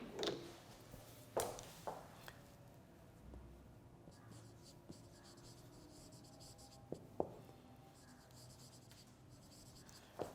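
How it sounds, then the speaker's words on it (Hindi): Pen or chalk writing by hand during a lecture, with scratchy strokes and occasional sharp taps and knocks against the surface in a quiet room, without speech over it. "मैं लिख भी देता हूं।"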